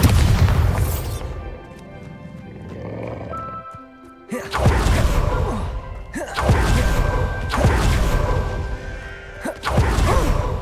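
Bombarda spell explosions in Hogwarts Legacy: a series of loud booming blasts with crashing debris and whooshes, several heavy hits spread across the stretch, close and forceful.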